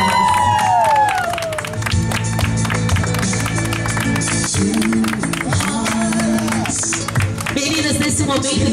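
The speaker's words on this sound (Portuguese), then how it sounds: "Uma salva de palmas para ela." Applause and cheering from a crowd at a birthday celebration, steady and fairly loud, with a tune playing along and voices mixed in throughout.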